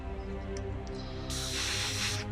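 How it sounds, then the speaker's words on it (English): An airbrush sprays a mix of steel and black paint onto miniatures, a soft hiss under a faint background hum that swells into a louder, steady spray burst in the second half. "Spraying from about 45-degree angle at the minis"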